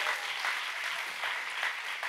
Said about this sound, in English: Let's give the band one more good hand clap tonight.